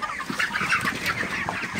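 Broiler chickens on a farm cluck continuously, a dense, close chorus of overlapping calls with no talking.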